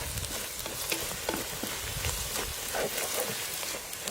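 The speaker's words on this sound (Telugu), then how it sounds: "ఉల్లిగడ్డలు 4-5 నిమిషాలు వేగిన తర్వాత కొంచెం కరివేపాకు వేసి కలుపుకుందాం" Onions and curry leaves frying in a pan, a close, continuous crackling sizzle with bursts of popping and stirring scrapes and no speech.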